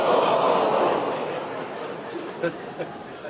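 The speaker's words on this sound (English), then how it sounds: "Crowd getting excited." Snooker crowd at a World Championship semi-final murmuring and stirring with excitement, a broad hum of chatter that swells early then settles, with a couple of brief sharp reactions near the end.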